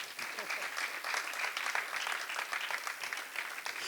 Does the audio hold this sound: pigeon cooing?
no